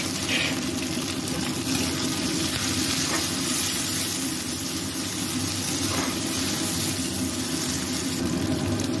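Chopped tomato hitting onions frying to light brown in a pan, producing a continuous loud, close sizzle that holds evenly throughout with faint stirring and no talk.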